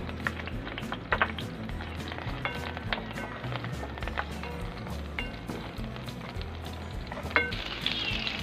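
Garlic and onion sauté in a pan for a Filipino paksiw na bangus with bitter gourd, a steady close sizzle with scattered clicks and scrapes of stirring, no talking.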